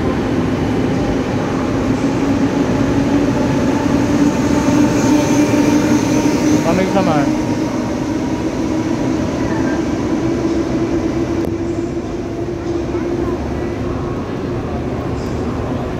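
EMU836+EMU835 commuter train pulling out of Taichung station, a steady loud rumble and hum with rising tonal whine, people talking over it.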